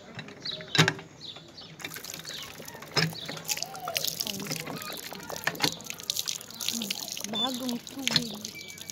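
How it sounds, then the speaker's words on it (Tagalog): A hand water pump at a castle on Usedom Island squeaks and gushes in irregular strokes, with water splashing and trickling close by amid faint background voices. "Bubumba po tayo."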